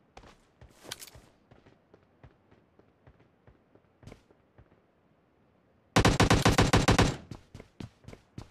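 Gunfire in PUBG: scattered single shots early on, then a loud, dense burst of rapid automatic fire lasting about a second, followed by a few trailing shots, with no talk over it.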